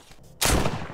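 A single sharp, loud gunshot in The Walking Dead Saints and Sinners Aftershock VR zombie game, a sudden close blast that rings out briefly after a quiet moment.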